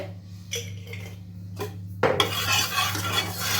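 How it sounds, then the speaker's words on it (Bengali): Soy sauce stirred into hot oil in a wok for homemade chilli chicken, a metal utensil clinking and scraping in short strokes, then a louder rush of sizzle and steady scraping in the second half, close by with no talk. "একটু তেলের মধ্যে সয়া সসটা নেড়ে চেড়ে নেওয়া হচ্ছে।"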